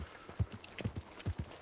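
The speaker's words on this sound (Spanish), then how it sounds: "Escucho un caballo." Horse hooves clip-clop at a steady walking pace in a Spanish-language video game roleplay, a series of soft, moderately close thuds with low background noise and no talk over them.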